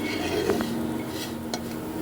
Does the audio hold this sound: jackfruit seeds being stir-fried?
yes